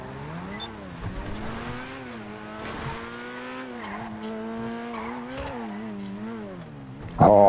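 A Ferrari engine in Grand Theft Auto V revs and drones with rising and falling pitch as the car drives, with a sharp burst at the very end and no talk over it.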